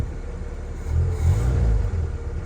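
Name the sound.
Honda car engine running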